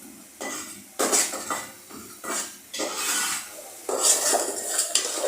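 Spices with chili powder being stirred in a pan for beef and potato curry, a series of scraping, rubbing strokes of a utensil against the metal, separated by short pauses, close and moderately loud.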